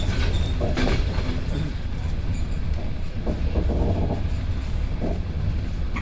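Inside a carriage of a train leaving Samarkand, a loud low rumble of wheels on track carries on with rhythmic rail clicks and brief squeals, and faint voices surface now and then.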